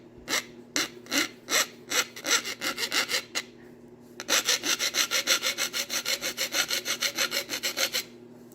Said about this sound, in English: so I'm gonna file that off first before I go hammering here too much